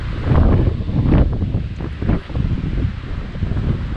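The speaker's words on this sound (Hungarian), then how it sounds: "olyan szél fúj, hogy semmi nem hallatszik a kamerába" Strong wind buffets a camera microphone outdoors at a lookout in Istria, producing a loud, continuous low rumble and roar that swells and dips, with a brief lull near the middle.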